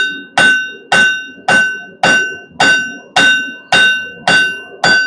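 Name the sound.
blacksmith hammering hot steel on anvil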